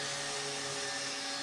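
A power sander runs steadily over wood with a continuous whirring, hissing hum, fairly quiet and unbroken, with no voices.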